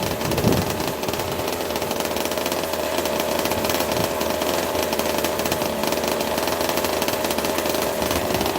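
A 26cc two-stroke gasoline engine runs steadily, burning two-stroke mix on 93-octane fuel, with a loud, constant buzzy drone close by that holds throughout without pauses or talk.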